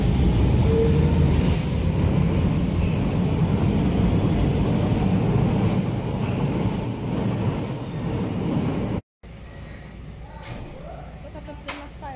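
An old Vienna U-Bahn U4 metro train departs from the platform, a loud rumbling roll of railcars with squealing wheels and rattling, fairly close, then an abrupt cut to quieter station ambience.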